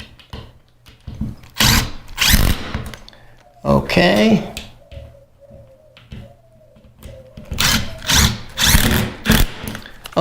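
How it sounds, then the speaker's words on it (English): A power drill tightening a ceiling fan fixture to the ceiling whirs in short bursts, with a steady mid-pitched drone between them, up close under intermittent talking. "I'll grab the trusty drill and let's tighten them up to the ceiling."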